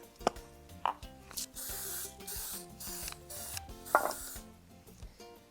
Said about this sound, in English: spray a muffin pan with cooking spray